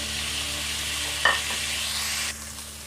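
Previously fried chicken is added to a pan with a little oil for creamy Italian pasta, giving a steady close sizzle with a short clatter midway as it drops in, then a quieter hiss.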